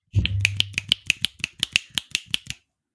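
A run of about fourteen sharp, evenly spaced finger snaps offered as poetry-reading applause, close and crisp, following a brief low voiced sound at the start and then stopping abruptly.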